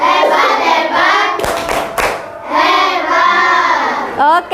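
Children at an Indonesian school do a rhythmic group clap, chanting in loud voiced bursts with two sharp clusters of hand claps in between, close and lively.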